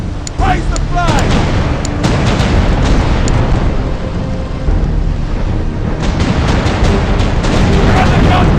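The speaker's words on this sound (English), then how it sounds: "We're under gunfire!" Heavy cannon fire in a naval battle video game: loud, repeated booms and blasts rolling continuously through a dense, busy battle mix.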